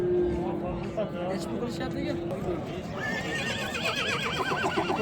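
A young male foal at a livestock market neighs loudly with a long whinny, amid hoof clip-clop, crowd babble and people talking nearby.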